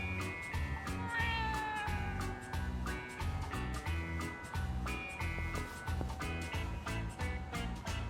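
A cat in the video game Yakuza: Like a Dragon meows several times over a rhythmic game music bed, clear and close with repeated short calls.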